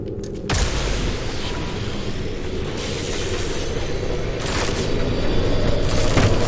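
An EMP blast in Deus Ex: Mankind Divided sets off a sudden loud broadband boom, followed by a sustained roaring, crackling rumble that holds steady and swells slightly toward the end.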